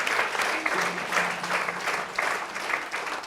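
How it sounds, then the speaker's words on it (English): A breakfast briefing audience gives a short burst of applause, close and lively, with brisk overlapping claps and a faint voice briefly under the noise. "Big round of applause for Julia."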